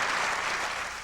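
Audience applause for President Bush at a Los Angeles event after disaster damage, a steady wash of clapping heard faintly and at a distance, tapering slightly toward the end.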